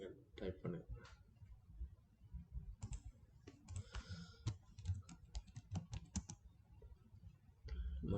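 Typing on a computer keyboard, faint irregular bursts of key clicks and taps spread across the whole stretch, quiet and close with brief pauses between runs.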